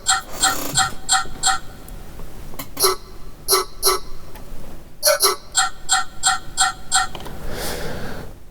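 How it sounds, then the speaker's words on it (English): Frequency-shifted gem shard synth sound from an electronic track, with short bright glassy stabs in rhythmic bursts, two layers together rising in pitch across repeated phrases, loud and alone. "we've now got two of these gem shardy sounds together, and this one's being frequency shifted"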